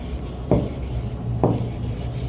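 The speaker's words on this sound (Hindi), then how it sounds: "चलिए इसको हम लोग लिखेंगे" A pen scratches on paper while an accounts entry is written out, steady close scratching strokes with two sharper accents, alone without speech.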